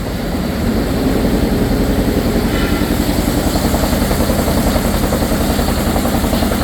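A carpet tufting machine in a manufacturing plant runs loud and steady with a dense rapid mechanical clatter and whir, continuous throughout with no talk.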